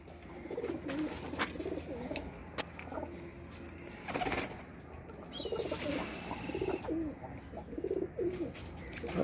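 Several pink-eyed pigeons coo in soft, repeated low calls, with a brief rustle of movement partway through and faint background noise.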